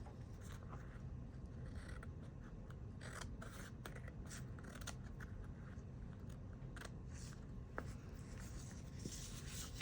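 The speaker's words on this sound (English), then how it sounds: "let's go ahead and trim this. Let me turn this around. It's easier to cut from this side." Scissors trim paper for a handmade mini flip book, giving a steady stream of soft, close snipping and rasping scrapes that run throughout at a low level with no talk.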